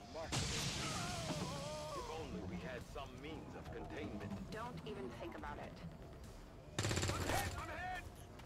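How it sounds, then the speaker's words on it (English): Gunfire from XCOM 2 during a co-op tactical match, with a burst of loud shots at the start and another heavy volley near the end, while people talk over the action throughout. "Shooting into half cover."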